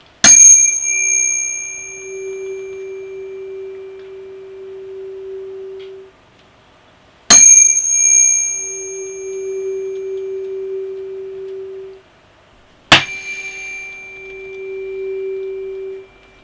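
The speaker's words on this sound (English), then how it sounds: "When the tuning fork makes the loudest resonant sound, then we've managed to make a quarter of a wavelength" A struck tuning fork rings out three times over a hollow resonance tube, each sharp strike followed by a steady pure tone that swells and sustains for several seconds before fading, close and clear with no talking.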